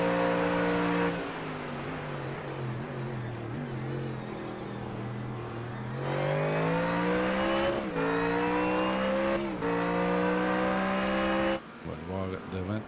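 GT3 race cars braking and accelerating at Circuit of the Americas, engine notes sweeping down then climbing in rising revs, loud and sustained, with a commentator's voice running over the track noise.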